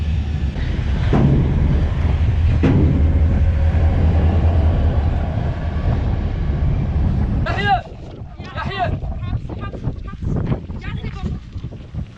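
A heavily loaded Saharan ore freight train with many wagons gets under way, giving a loud, steady, wind-buffeted rumble for several seconds before it drops lower and voices break in.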